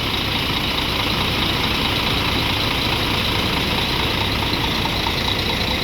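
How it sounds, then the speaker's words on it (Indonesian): A Mercedes-Benz 2542 bus engine idles at a terminal before departure, giving a loud, steady, low diesel rumble with a constant knocking texture that stays close and unbroken throughout. "ini mesinnya 2542 ini, Mercedes-Benz. Lagi dicek ya sebelum berangkat."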